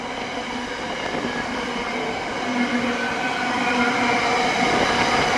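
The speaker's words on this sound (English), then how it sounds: "First thing we have is a 66 to come through today. 66533 Hanjin Express." Freightliner Class 66 diesel freight locomotive 66533 passes through Southampton Airport Parkway station, a loud continuous rumble of engine and rolling wagons that grows slightly louder as it goes by.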